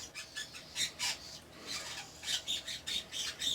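A baby parrot gives a series of raspy, scratchy squawks, close and fairly quiet, in uneven bursts that grow quicker toward the end.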